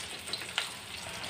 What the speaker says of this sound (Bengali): এই যে পেঁয়াজ দিয়ে দিছি, পেঁয়াজটা একটু হালকা ভেজে নিব।